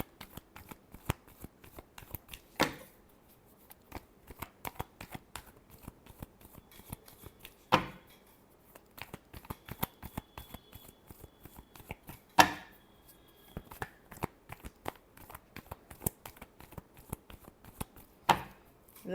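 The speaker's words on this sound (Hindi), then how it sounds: "Last shuffle." Tarot cards are shuffled repeatedly in a quiet room, with soft rapid riffling and flicking and a few louder slaps of the deck spaced every few seconds, close and alone with no talk.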